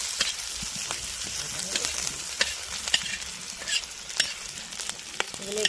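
Chopped onion frying in hot oil with bay leaf and cumin, a steady close sizzle with soft crackles and occasional stirring scrapes, no talk.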